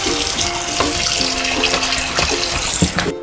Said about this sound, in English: I'm gonna go ahead and give this a quick little rinse in the sink.